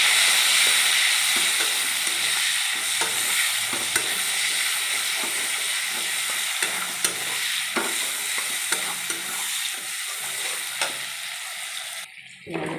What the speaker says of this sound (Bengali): এবার ওই মাছ ভাজা তেলেই আমি কালো জিরে ফোড়ন দিয়ে দিলাম।